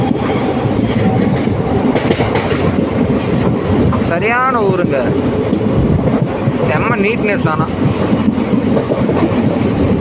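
A train rumbles loudly and continuously along the rails between Palakkad and Ernakulam in Kerala, with someone talking over the noise and a few squeals rising from the wheels.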